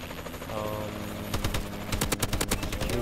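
Rapid bursts of automatic gunfire in a Call of Duty: Advanced Warfare Domination match, an attack helicopter raining bullets, loud and close, dense crackling volleys over a constant droning background.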